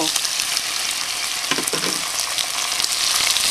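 Onion and tomato fry loudly in a pan for pineapple chicken, a dense continuous sizzle with a few stirring scrapes, close up and without speech.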